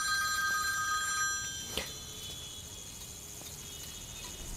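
A telephone rings with steady high electronic tones against a quiet room background, with a brief click partway through.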